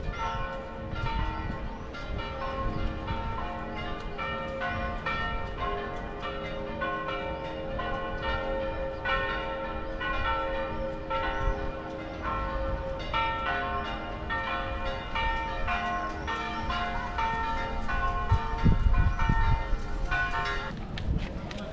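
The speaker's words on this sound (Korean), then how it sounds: "이 종소리" Church bells in Polignano a Mare, Italy, ring continuously with overlapping clangs, steady and moderately loud, against a busy outdoor background.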